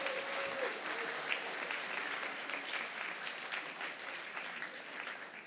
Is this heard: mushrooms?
no